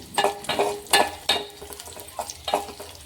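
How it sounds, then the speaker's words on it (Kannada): Cardamom, fennel and cloves frying in ghee for a rice payasa, a series of short sizzling, scraping bursts about every half second, close and moderately loud, with no talk. "ಆ ಏಲಕ್ಕಿ ಫ್ರೈ ಮಾಡ್ಕೊಳ್ಕತ್ತೀನಿ"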